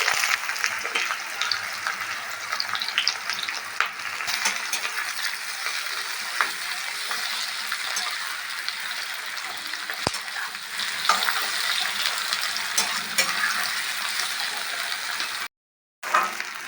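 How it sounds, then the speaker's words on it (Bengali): Chopped onions with garam masala fry in a hot wok, a loud, continuous close sizzle with occasional faint stirring scrapes throughout, briefly cut to silence near the end; no one speaks. "এখানে শুধু পেঁয়াজটা ভেজে নিচ্ছি"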